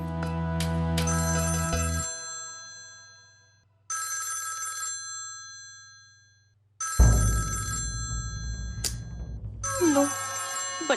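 A telephone rings in several loud bursts separated by short pauses, with a deeper rumbling noise joining in the later rings.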